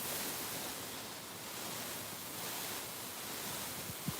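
A garden hose sprays water steadily onto potted garden plants, producing a continuous broadband hiss that swells and eases slightly, with a small knock near the end.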